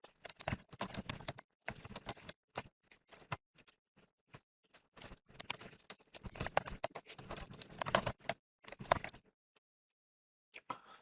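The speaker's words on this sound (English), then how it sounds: "this is where I speed up my typing" Bursts of rapid keystrokes on a computer keyboard, close and crisp, clustered in quick runs with short silent gaps between them as someone types notes at speed.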